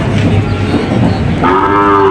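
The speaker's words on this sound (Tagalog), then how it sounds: "Kalabaw dito na dumating ngayon." A loud, close, drawn-out low moo from a water buffalo at a livestock market in Padre Garcia, Batangas, rising into a sustained bellow over a rumbling background.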